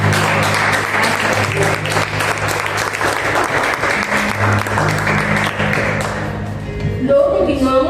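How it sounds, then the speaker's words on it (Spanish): Sustained, loud applause from a church congregation during a service, dense and steady throughout with a low organ-like hum beneath, tapering off near the end as a voice begins. "Vamos a dar un fuerte aplauso."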